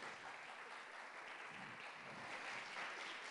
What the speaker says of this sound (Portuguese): Palmas para os nossos astros.